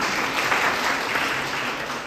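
Steady applause from an audience at a college poetry competition in Vani, Nashik, greeting the judges, dense and continuous for the whole stretch at an even, moderately loud level.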